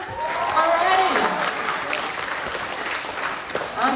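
Audience at the Pasifika Fusion 2023 main stage festival gives another round of applause after a quiz contestant, the clapping fairly loud and sustained while a voice and music-like tones carry over it.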